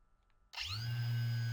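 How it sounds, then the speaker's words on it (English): A G Plus GPT220 dual action mini polisher with a 12mm orbit starts up after a moment of near silence, then runs at a steady, loud hum with a constant whine, close by and alone. "This polisher has a dual action and a 12mm orbit"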